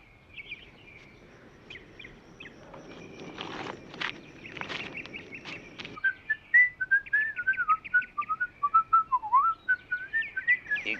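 A man whistles a lively, wavering tune at a campfire cookout, the melody growing louder and clearer after some quiet shuffling and footsteps at the start.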